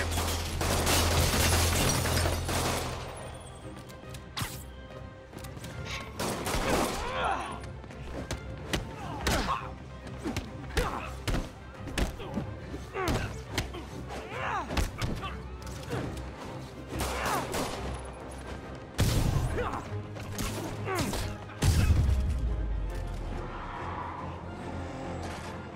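Gunfire and impacts in the Marvel's Spider-Man video game, with loud bursts of thuds, crashes and shots in irregular clusters over a low background, mixed with game voices.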